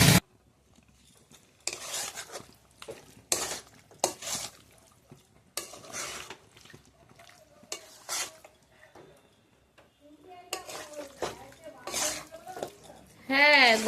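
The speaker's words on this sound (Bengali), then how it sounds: "আমি এর মধ্যে এবার মাংসটা দিয়ে দেবো" Raw chicken pieces tipped into a pot of cooked-down spices, followed by stirring and scraping against the pan with gentle sizzling, close up, in bursts with no talk.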